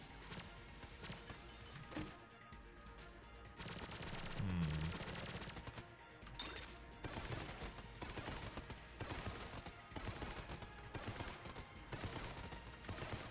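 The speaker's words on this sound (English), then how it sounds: "The Mr. Accretion Jr. shots are very quickly becoming my favorite way to open a clip from this gun." Rapid bursts of Mr. Accretion Jr. gunfire in Enter the Gungeon, a dense run of fast repeating shots with game music and effects layered over them throughout.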